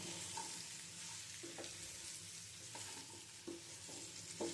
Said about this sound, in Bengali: সর্ষের তেলের মধ্যে যদি খেজুরটা দিয়ে একটু নেড়ে ছেড়ে নাও